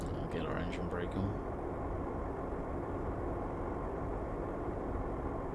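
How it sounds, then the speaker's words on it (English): The engine brake of a Renault T Range truck in Euro Truck Simulator 2 makes a steady, low, droning rumble that holds throughout, with brief voice-like sounds near the start. "I'll get our engine brake on."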